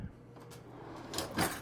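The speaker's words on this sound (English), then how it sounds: "Again, full extension drawers," A full-extension soft-close drawer inside a 2020 New Horizons Majestic RV slides along its runners quietly and close by, finishing with a gentle cushioned close and no talking.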